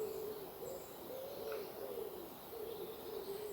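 Birds in ancient woodland coo and call in a steady, soft chorus, with a low wavering dove-like note repeating throughout and faint higher chirps behind, fairly distant and quiet with no talk.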